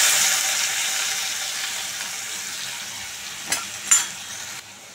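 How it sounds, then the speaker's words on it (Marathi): Onion sautés in a pan over a lowered gas flame, a steady close hiss of frying with a couple of brief scrapes of a spoon near the end, then the sizzle drops away. "आता याच्यामध्ये मी कांदा घालते परतायला."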